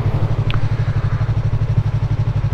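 A 2023 Yamaha R3 motorcycle engine runs at a steady idle, a loud, close, even chugging pulse that keeps a fast regular rhythm throughout.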